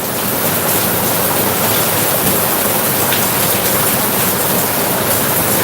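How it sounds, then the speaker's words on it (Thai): Heavy rain pours down in a steady, dense roar of droplets hitting surfaces, loud and unbroken throughout with no voices. "ฝนตกหนักมาก"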